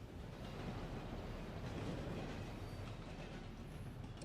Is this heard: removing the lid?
no